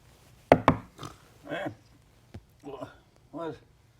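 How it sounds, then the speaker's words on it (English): Two sharp knocks land close together near the start, followed by a fainter single rap, with a person talking between and after them. "What's with the knocking?"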